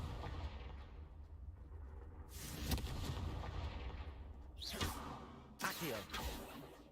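Explosions from a blasting spell in a Harry Potter video game, a sustained rumbling roar with sharp whooshing bursts and booming blasts, several rising over a continuous low background.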